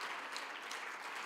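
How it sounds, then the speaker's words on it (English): Warm round of applause for the speakers at a student support services indaba, continuous crowd clapping filling the moment, fairly soft and distant, with no talking on top. "Can we please give a warm round of applause to all the speakers,"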